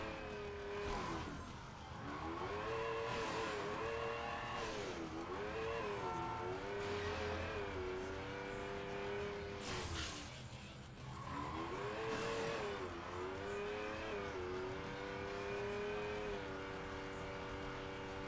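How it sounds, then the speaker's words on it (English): A fast car in an Xbox 360 video game: a loud engine revving up and down in repeated sweeping waves, with brief tire squeal, continuous and close throughout. "Whoa, this car is quick."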